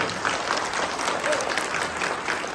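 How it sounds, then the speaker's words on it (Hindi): Audience applause at a business presentation in honour of the company directors, a steady dense burst of clapping that fills the whole stretch at even loudness. "इनके लिए भी एक बार जोरदार ताली।"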